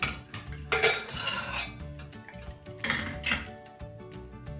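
Pressure cooker being opened after cooling, then cooked methi arhar dal being stirred: repeated metallic clanks of lid and spoon against a steel pot, close and fairly loud, with no talking.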